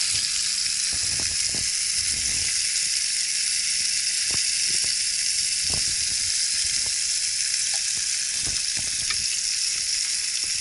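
Freshly caught pike fried in a covered pan, giving a loud, steady sizzle and hiss that runs throughout, with faint soft pops and stirring-like crackles.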